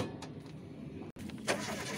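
A used car on an auction lot is being restarted after its engine stalled suddenly, with a short cranking burst that catches into a running engine, close and fairly quiet.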